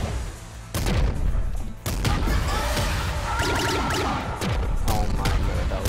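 Rapid game gunfire in Nuclear Throne, a dense run of sharp synthetic shots and impacts firing almost continuously, loud and close, with brief gaps between bursts.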